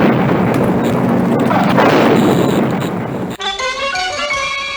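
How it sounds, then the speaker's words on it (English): A loud, sustained explosive roar in the video game scene, a hot bomb going off, fills the first three seconds and then cuts abruptly to a bright ringing musical sting. "It's a hot bomb!"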